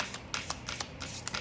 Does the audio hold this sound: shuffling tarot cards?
yes